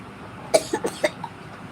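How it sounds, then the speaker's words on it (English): Several quick dry coughs in a short burst, four or five in a row, moderately close and fading at the end. "my brother's coughing"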